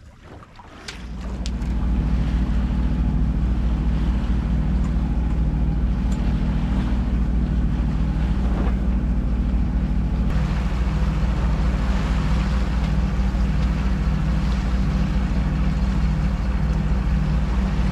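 A sailboat motors along at sea, its engine droning steadily and loudly throughout with constant low rumble, overlaid by wind buffeting and water rush; no talking.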